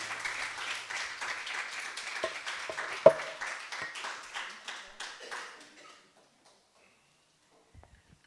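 Steady applause from a Sunday service congregation after a performance, a dense patter of clapping that swells and then fades out, leaving near silence.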